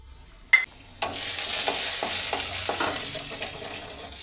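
Coriander seeds drop into hot ghee in a pan: a brief splash, then a sharp burst of sizzling that settles into a steady crackling fry with a few stirring knocks.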